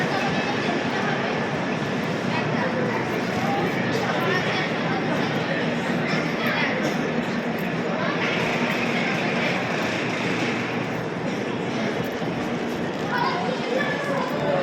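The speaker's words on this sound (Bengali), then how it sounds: "দেখো কত সুন্দর ট্রেন এসে গেছে।" A train stands at a station, its broad rumble and hiss running steadily throughout with the chatter of nearby people.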